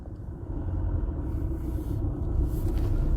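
A car in second gear climbs uphill with its engine giving a steady, heavy low rumble inside the cabin, holding a fairly even level throughout and with no talking.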